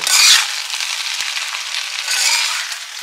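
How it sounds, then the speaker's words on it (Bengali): Rice being fried with vegetables and egg, a steady close sizzling hiss with a sharper burst at the start and a swell near the end, heard alone without voices. "এখনো ভাত ভাজা চলছে"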